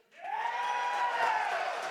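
A live crowd at the AGDQ 2018 speedrunning marathon cheers and whoops in agreement, a sustained swell of voices rising quickly and holding loud for a couple of seconds.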